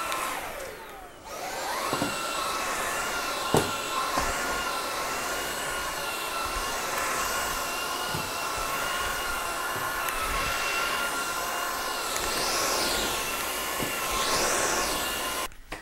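A Dreame V10 cordless vacuum cleaner with a flexible head runs steadily on a floor and under furniture, a continuous close whine with a shifting pitch and a few knocks of the head against surfaces.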